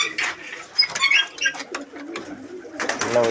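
Pigeons coo and flutter close by in a large loft flock, soft throaty calls repeating irregularly over a busy background with occasional sharper chirps.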